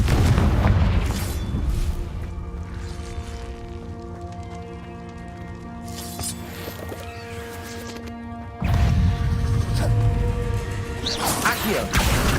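A Confringo spell blast in Hogwarts Legacy erupts as a loud, booming crash, followed by a ringing, tonal tail. A second heavy impact hits later, up close and dominant.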